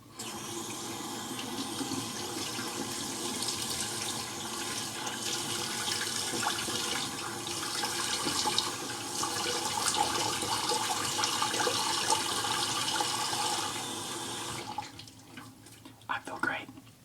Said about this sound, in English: And now a little quick rinse.